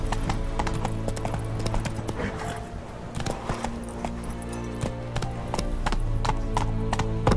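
Horse hooves clatter in quick, rhythmic clip-clops as a horse gallops in The Witcher 3 video game, loud and close throughout, with brief neighing.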